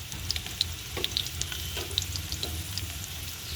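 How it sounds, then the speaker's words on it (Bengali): Cut papaya pieces fry gently in oil over low heat, giving a soft, steady sizzle with small crackling pops scattered throughout, faint and close, with no voices. "আর লো করে লাল লাল করে ভেজে নেব।"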